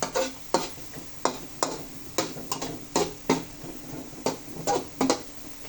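Shrimp simmer in coconut milk with chilli in a pan, with about a dozen sharp scraping stirs of a utensil at an irregular rhythm over a low bubbling hiss, close and fairly loud.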